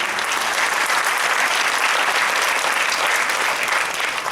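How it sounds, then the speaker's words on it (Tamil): Audience applause after a drama staged about the Acharyas before Ramanuja, dense sustained clapping from a large crowd, loud and even throughout with no speech over it. "இதுவரை வந்த கைத்தட்டல் அந்த பாராட்டின் ஒலியை சற்று குறைக்கிறது."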